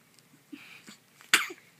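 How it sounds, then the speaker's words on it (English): A three-day-old newborn lets out a single short, sharp sneeze near the end, preceded by soft small breathy sounds, close and quiet. "Oh, they make me sneeze."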